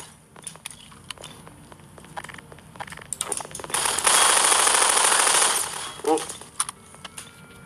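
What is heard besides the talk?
gunfire in a video game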